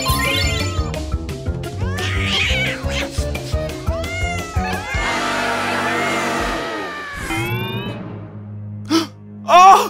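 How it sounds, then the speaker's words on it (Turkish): Cats meow over and over, loud, close, rising and falling cries that overlap and tumble together, with a brief scuffle and a final pair of yowls after a short pause. "Bir tane daha mı kedi?"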